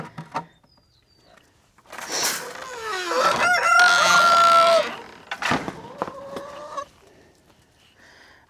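A rooster crows loudly and close by in a long, strained call after a storm, with clucking and other fowl sounds before and after it.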